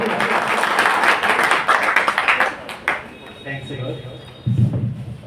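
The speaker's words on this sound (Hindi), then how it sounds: "एक बार तालियां जोरदार साथियों" Dense applause from a crowd, loud and steady for about three seconds, then fading into quieter room noise with a voice starting to speak.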